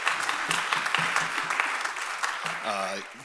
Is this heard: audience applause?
yes